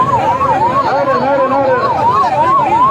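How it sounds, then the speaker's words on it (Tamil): An ambulance siren wails loudly and continuously in a rising and falling pattern as it passes behind a political campaign crowd, with crowd noise underneath. "பின்னாடி வர்றது ஆம்புலன்ஸ்"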